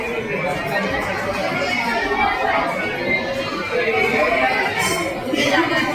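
Dense crowd chatter fills a packed cafeteria at Byculla Zoo (Rani Bag) in Mumbai, many overlapping voices blending into a steady, close, continuous murmur with no single speaker standing out.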